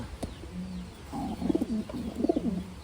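Pigeons cooing at close range in a loft of Taiwan-bred birds, a female and male pair, with two rounds of soft, throaty rolling coos separated by brief pauses and no talk.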